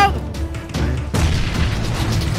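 Grenade blasts in the battle game PUBG, a series of heavy booming bursts in close succession, loud and dense with crashing low rumble throughout.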